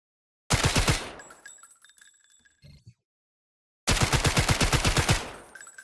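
Assault rifle hip-fired in the video game Delta Force: two loud rapid automatic bursts of about a second and a half each, separated by a quiet gap with faint metallic clinks.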